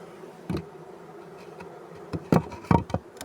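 Honeybees buzz around hives while frames are readied for honey extraction, a soft steady drone with several louder close passes of individual bees near the end.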